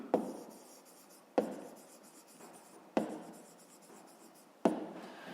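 Pen writing by hand on paper, close and quiet, with four distinct strokes each starting with a sharp tap and trailing into a soft scratching rub, alone with no talk.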